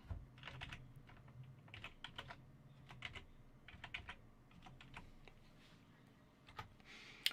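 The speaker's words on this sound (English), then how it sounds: "Typing my password wrong." Quiet, close typing on a computer keyboard, bursts of rapid clicky keystrokes with short pauses between them, with no talk.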